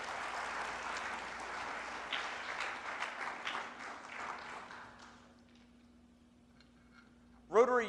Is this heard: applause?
yes